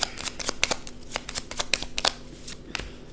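Lenormand cards shuffled by hand in a quick series of crisp riffling flicks and slaps, close and clear with no voice over them.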